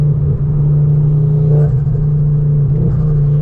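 Ford Focus RS Mk2 with 430 hp through the front wheels, its engine droning steadily under load while accelerating, a loud, continuous in-cabin rumble with no one speaking.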